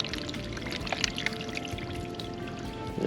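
Water runs steadily through a drain pipe during a test at an RV park, giving a continuous pouring, trickling flow that is close but fairly soft.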